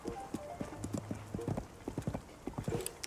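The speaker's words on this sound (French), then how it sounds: "C'est vraiment cool quand même de pouvoir se balader à cheval." Horse hooves clip-clop in a quick, even rhythm while a horse is ridden across open country in the video game Zelda: Tears of the Kingdom, fairly soft and unaccompanied by speech.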